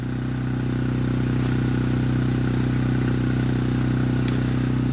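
A generator runs inside a shed with a leaking exhaust, giving a constant loud, close low drone with a steady pulsing rhythm and faint rattles on top, with no talk.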